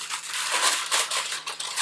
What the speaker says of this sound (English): grab a cookie sheet. Any cookie sheet will do. And a piece of parchment paper.